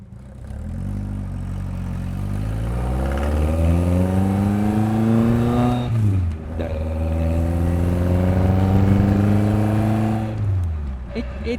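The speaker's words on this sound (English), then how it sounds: "It's a cool sounding car, right?" A car engine revs up twice, rising in pitch then dropping, loud and close with a steady throaty tone; a person speaks briefly over it.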